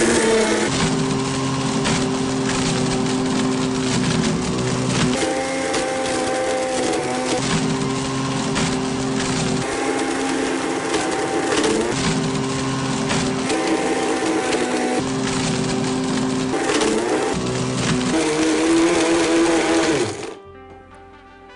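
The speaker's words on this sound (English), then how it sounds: "I knew I could get the iPad in a Blendtec Total Blender." A Blendtec Total Blender grinds up an iPad, a loud, steady motor roar with rattling, clattering pulses as the tablet is chewed apart, running continuously for about twenty seconds before cutting off abruptly.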